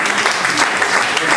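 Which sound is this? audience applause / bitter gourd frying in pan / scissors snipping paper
audience applause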